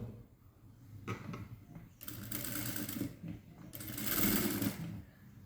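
A sewing machine stitches an A-line kurti, running in several bursts that grow louder toward the end, with short pauses and faint handling noises between runs.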